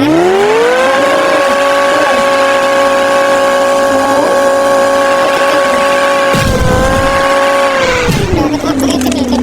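A car in a driving video game revs hard, its engine tone holding a high, steady whine for several seconds before dropping and shifting near the end, loud and close.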